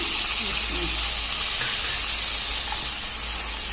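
Cashews sizzling in hot oil in a pan while making a paneer curry, a steady hiss of frying that holds evenly throughout with a low hum beneath.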